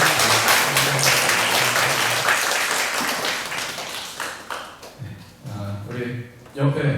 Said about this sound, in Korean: 우리 격려하는 마음으로 한번 박수 한번